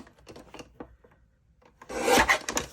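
Cardstock paper trimmed with a cutter, heard as a few light scrapes and then a louder rasping slide of the blade near the end. The sounds are close and brief with no speech.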